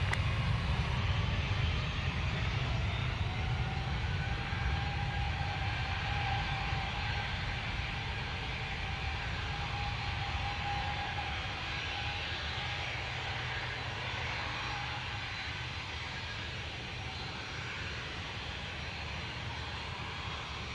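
An airliner departing runway 03 at an airport, heard as a steady, far-off roar of engines with broad rushing noise that slowly fades over about twenty seconds, with no talking.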